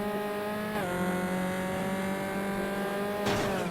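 A Tatuus Formula 4 race car in RaceRoom at Suzuka holds a steady, high-pitched engine note at full throttle from the onboard view, with one gear shift partway through and a sharp rise near the end.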